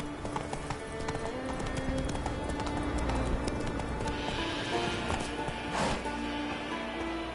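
A ridden horse trots in a steady clip-clop rhythm, hooves close and fairly loud over a constant background rumble, with a brief brighter scuffing burst near the end and no talking.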